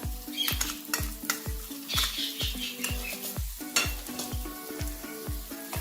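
Spices being stirred in a frying pan: turmeric, masala, chaat masala and salt worked through with a spoon that scrapes and taps the pan in a fast, regular rhythm over a soft sizzle, close and fairly quiet.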